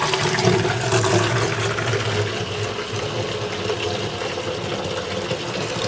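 Water pours steadily into a small-batch ice cream machine, a loud continuous rushing fill with a low mechanical hum underneath, close by and with no talking.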